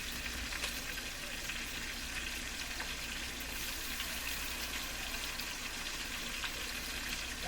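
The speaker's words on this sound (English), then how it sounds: "Now I'm going to add a half a cup, it says," Broth added to cooked-out flour sizzles and bubbles steadily in a hot pan, a constant close frying hiss with no talking over it.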